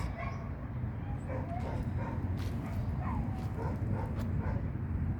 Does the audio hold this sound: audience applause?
no